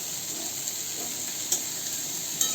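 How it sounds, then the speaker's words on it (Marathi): Sliced okra being stirred as it fries in a pan over a medium gas flame, a steady close sizzle with a couple of brief scraping stirs. "त्यामध्ये कापलेली भेंडी मिक्स करून घेऊ"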